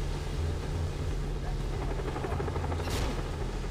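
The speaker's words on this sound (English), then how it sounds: "Shit, dude, helicopter." A helicopter in the game Far Cry 3 thrums with a steady low rotor drone and engine hum, close and continuous, while a voice speaks faintly over it.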